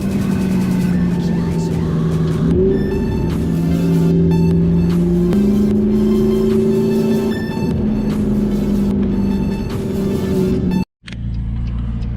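A McLaren MP4-12C drives a canyon road with other cars nearby. Its engine drones loudly and steadily, the pitch stepping up and down through the run, then cuts off abruptly near the end before picking up again.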